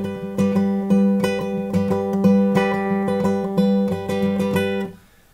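A fingerpicked acoustic guitar plays a pattern. A thumbed bass string alternates with plucked upper strings in a steady, ringing rhythm for about five seconds, then stops abruptly.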